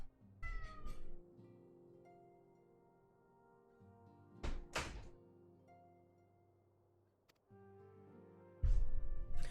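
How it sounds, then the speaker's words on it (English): A house cat meows to be let out indoors, a few short rising meows near the start and a louder pair midway, heard over steady electronic game music with occasional dull thumps. "the cat wants out now"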